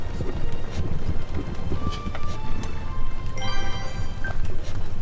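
Clopping footfalls of a land dragon hauling a carriage in a fantasy video game, a steady trot under constant rolling rumble, with faint chimes and a brief voice near the end.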